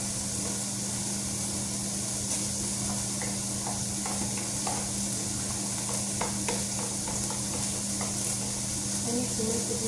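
Garlic and ginger sizzle steadily in a hot pan for a coconut milk chicken dish, with a spatula scraping and stirring in irregular knocks over the constant frying hiss.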